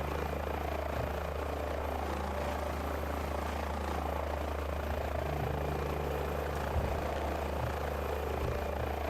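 A helicopter flies in Microsoft Flight Simulator, its steady rotor and engine drone filling the cabin with a constant low hum and broadband whine, with no talking over it.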